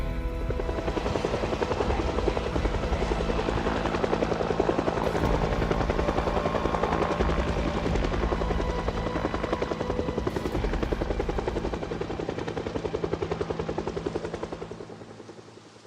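Helicopter flying overhead, a loud continuous rotor thrum and turbine whine that holds steady for most of the stretch before fading at the end, with no one talking.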